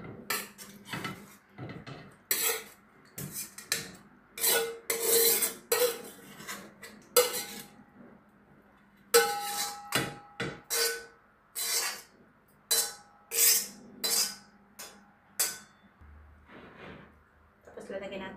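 Home-cooked food, with shrimp to go on top, being served onto a plate with cutlery: repeated clinks and scrapes of utensils against dishes, fairly close, with a voice talking between them.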